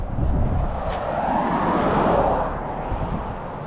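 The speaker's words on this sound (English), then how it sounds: "Still lots and lots of cars." Steady traffic of cars driving past on a road near a bridge, a continuous broad roar of tires and engines at moderate distance, no speech.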